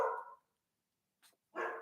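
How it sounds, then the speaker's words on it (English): Several dogs bark indoors in two bursts separated by a pause, fairly close and loud with no talking over them. "I apologize for my crazy dogs."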